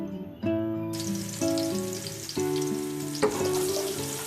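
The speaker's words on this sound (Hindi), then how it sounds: "इसको ऑयल में हम थोड़ी देर पकाएंगे, ताकि इसका जो फ्लेवर है वो ऑयल में अच्छे से इन्फ्यूज हो जाए।" Chopped green chili, cumin, ginger and garlic fry in hot oil in a pan, a steady close sizzle with several sharper bursts as more goes in, alongside faint utensil tones and no speech.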